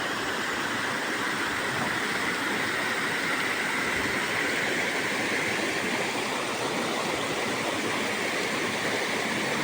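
A fairly large river rushes steadily past a fishing spot, a continuous broadband wash of flowing water, moderately loud and unbroken with no voices.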